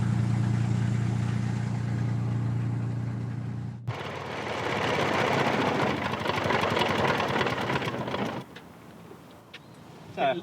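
Restored WW2 Rolls-Royce Merlin Spitfire engine drops from a steady low drone into a rough, slightly lean and crackly idle, then cuts out and fades to near quiet with a brief noise at the end.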